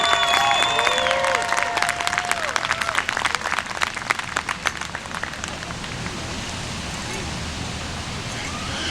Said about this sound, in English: let's give another big round of applause to all of our dancers and our singers.